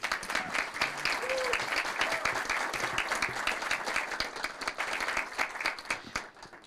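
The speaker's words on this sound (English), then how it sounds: "Please give them a round of applause." Applause at a city council meeting, a sustained round of moderate clapping from the room, fairly even throughout with a few faint voices beneath, easing off near the end.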